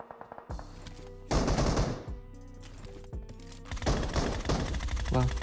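Gunfire in PUBG Mobile rings out in loud bursts of rapid shots separated by short pauses, each burst followed by ringing tails. A voice is heard between the volleys.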